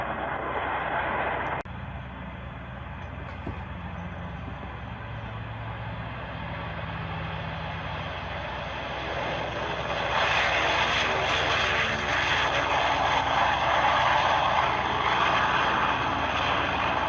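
Airplane engines at the Oshkosh 2023 air show drone steadily, swelling louder near the end as an aircraft passes closer, with a broad roaring rush.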